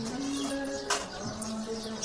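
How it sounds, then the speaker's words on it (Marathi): Village birds call on an early winter morning, with a few faint coos and chirps over a steady held tone, somewhat distant and quiet, and a brief brighter burst midway. "मन प्रफुल्लित करणाऱ्या पक्ष्यांचा किलबिलाट"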